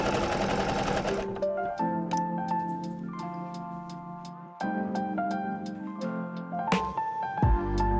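A sewing machine stitching a decorative stitch on a garment, first a loud fast whirring run, then slower stop-start bursts with sharp ticking needle clicks and humming motor tones.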